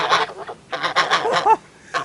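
Geese at a UK smallholding honk close by in repeated harsh bursts, several loud calls with short gaps between them.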